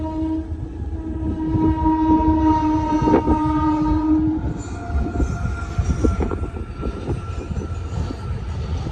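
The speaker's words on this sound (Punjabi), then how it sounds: "ਫਾਟਕ ਫੇਰ ਲੱਗ ਗਏ ਟ੍ਰੇਨ ਫੇਰ ਆ ਗਈ" A train rumbles past nearby at a railway crossing near Fatehgarh Sahib, its horn blaring for several seconds before the clatter and roar of wheels carry on.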